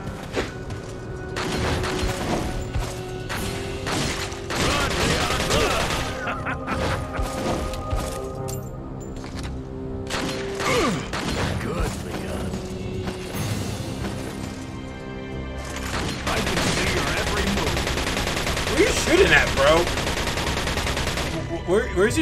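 Gunfire in Resident Evil 4, bursts of loud shots and rapid automatic fire with crashing impacts, broken by short pauses and clustering again near the end, while a voice talks in places.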